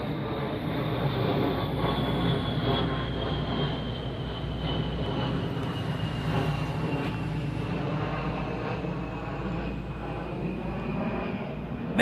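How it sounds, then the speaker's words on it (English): An A-10 Warthog jet passes over an urban homestead garden, a steady distant roar with a slowly falling whine that fills the whole stretch outdoors. "we got the A10 Warthogs flying over today"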